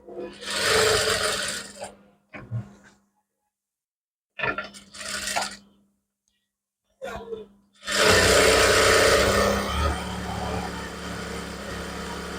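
Sewing machine stitching the side seam of a kameez, run in several short bursts with silent pauses between, then a longer continuous run at the end, close and fairly loud.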